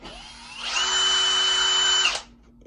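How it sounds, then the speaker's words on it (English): Power drill fitted with a stir attachment spins at high speed through liquid rubber, a steady loud whirring drone that starts abruptly, holds for about a second and a half, then winds down into a quiet background hum. "I'd buy this, put it on the end of a drill."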